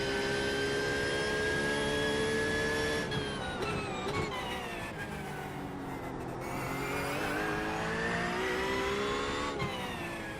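A Porsche race car engine in the iRacing sim game screams at high revs, holding a steady whine before dropping through gear shifts and climbing again, loud and continuous with no talk.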